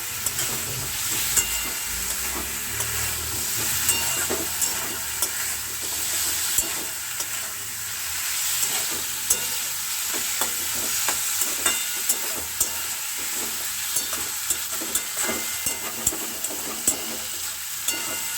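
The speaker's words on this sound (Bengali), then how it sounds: "এরকমভাবে মাছ দিয়ে নাড়াচাড়া করলে পরে মশলাটা মাছের ভিতরে ঢুকে যাচ্ছে" Fish stirred through a spiced masala in a pan, a steady soft sizzle with repeated scraping and clinking of the spoon at an irregular rhythm, close and fairly quiet.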